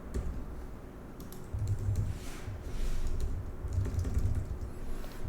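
Keys on a computer keyboard typed in quick, irregular bursts of soft clicks, fairly close and moderately quiet, with no voices.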